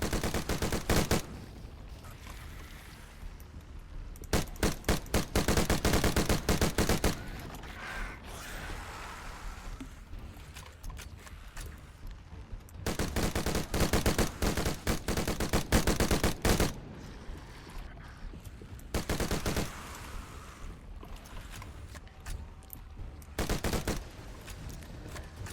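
Assault rifle fire in the zombie shooter Dead Frontier 2, long loud automatic bursts broken by short pauses and a few quieter gaps, with no voices.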